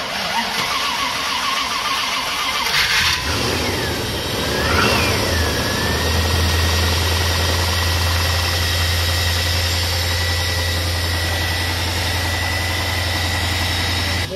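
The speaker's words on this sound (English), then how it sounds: "We're idling at 2200 RPM, not too bad, but it sounds great." A mid-1990s Land Rover with an eight-cylinder engine idles at a fast, steady hum after a brief rising rev, loud and close, with no voices.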